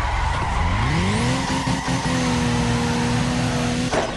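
Loud sustained tire squeal with a steady engine whine as a car in the CarX Drift Racing video game slides through a long continuous 360 drift in a town, the pitch sweeping then holding, ending with a brief thump.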